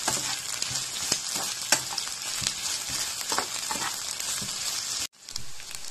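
Cut potatoes frying for a Spanish omelette in a pan, a steady close hiss and sizzle with occasional crackles and stirring sounds, dropping out briefly near the end.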